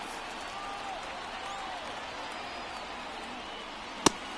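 A steady, faint crowd roar from the baseball video game MLB The Show 24 during a one-run ninth inning between the Giants and Mets, with a single sharp click near the end.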